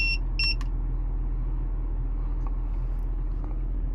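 A few short electronic beeps from an RV TST-507 tire pressure monitor at the start over a steady low engine-like hum, followed by quiet background noise and faint clicks.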